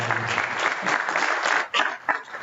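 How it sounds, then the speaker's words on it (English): Applause from a conference audience at the close of a tutorial session in Anaheim, steady and full for most of the stretch, then thinning into scattered claps. "Big round of applause for everybody."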